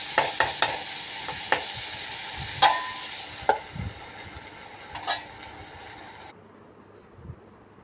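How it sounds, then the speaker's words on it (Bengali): Cabbage frying in a pan, seasoned with turmeric, salt, cumin and garam masala, gives a steady low hiss with scattered sharp clicks and spatula scrapes, then drops to near silence as the lid goes on. "এটাতে পাতাকপি ভাজা বসাইছি।"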